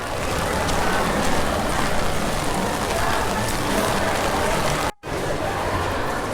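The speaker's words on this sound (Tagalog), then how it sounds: "Sayang ulan" Rain falls steadily at Tokyo DisneySea, a dense, loud hiss of drops that cuts out briefly near the end, with faint crowd murmur underneath.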